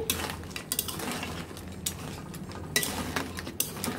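A utensil scrapes and clinks against a pan while spices are mixed into crab, giving irregular metallic taps and scrapes over a faint low background, close and moderately quiet.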